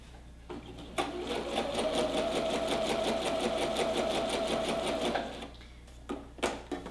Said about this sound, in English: I'm gonna go 1/4 inch from that last stitch and go ahead and stitch another line.